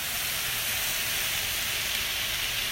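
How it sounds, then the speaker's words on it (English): Snow peas and broccoli steaming in a pan with water, giving a loud, steady hiss and sizzle up close that holds constant before stopping abruptly. "I'll keep adding water as I cook to steam the vegetables."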